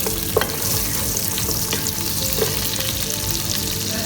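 Garlic frying in butter in a pan for butter chicken, a close steady crackling sizzle with a couple of faint utensil clicks, no speech.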